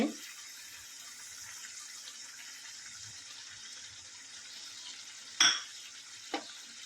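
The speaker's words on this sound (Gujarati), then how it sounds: "ત્યાં સુધી એને હલાવશું આપણે કે તેલ છૂટું પડે" Radish greens cooked with gram flour in a pan give off a steady soft sizzling hiss, broken by two sharp spoon-against-pan clanks near the end; no talking.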